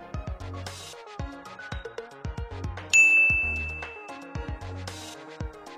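A bright electronic notification ding chimes repeatedly over a plucked, rhythmic musical backing, with one longer sustained bell tone ringing out near the middle; crisp, close and clean, no voices.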